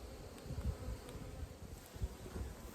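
Honey bees buzz around the hives in a homestead bee yard, a dense, faint hum of many insects with no voices.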